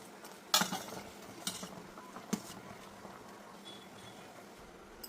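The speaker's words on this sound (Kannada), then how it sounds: "ಸಾಸಿವೆ ಮತ್ತು ಒಣಮೆಣಸಲ್ಲಿ ಒಗ್ಗರಣೆ ಮಾಡ್ತಾ ಇದ್ದೇನೆ." Mustard seeds and dry red chillies tempering in a pan for a wild mango curry, with a soft background sizzle broken by a few sharp spoon-on-metal clinks and crackling pops.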